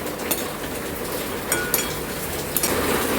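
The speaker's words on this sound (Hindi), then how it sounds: "घी गरम हो चुका है, तो मखाने को अच्छी तरह से फ्राई करके ले लेना है।" Fox nuts (makhana) frying in hot ghee in a pan, a steady dense sizzle and crackle with a few sharper pops and stirring clinks, close and continuous, no talking.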